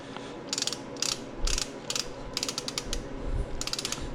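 Ratcheting torque wrench tightening bolts on a small block Chevy 350 engine during a bottom-end rebuild, with quick bursts of close, crisp clicks in irregular groups and no talk.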